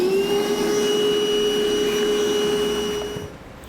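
A vacuum cleaner runs steadily, cleaning up debris left by a 1-inch hole saw during a tail light wiring install on a 2016 Chevrolet, a close, loud whine with a constant pitch that shuts off near the end.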